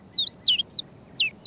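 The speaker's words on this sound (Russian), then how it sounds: "Привет, птичка. Ты поешь нашу песню." Small bird chirping in a children's cartoon, five quick, bright falling chirps spaced unevenly across a second and a half, fairly close and clear over faint background noise, no talking.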